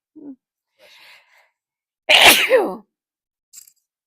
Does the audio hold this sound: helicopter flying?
no